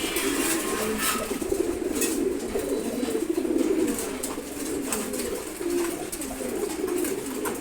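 Pigeons at a pigeon farm coo repeatedly in low, rolling calls, several birds overlapping steadily and fairly close, with faint fluttering and no speech.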